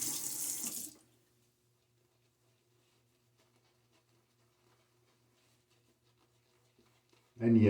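A bathroom tap runs loudly into the sink during a wet shave for about a second, then stops to near silence, before the water gushes on again at the end.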